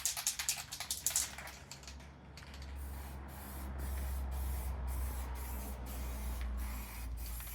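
Primer spraying onto a sun-damaged Mercedes SL roof panel: a steady, continuous aerosol hiss that settles in after a short burst of clicking and mechanical noise, fairly close and uninterrupted.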